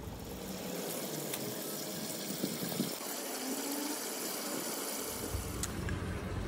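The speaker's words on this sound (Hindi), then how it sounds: "अभी यहाँ पानी डालने के लिए आई हूँ।" Water running and splashing steadily onto a freshly cemented rooftop from a tap with weak flow, a continuous broadband wash heard close and alone, without speech.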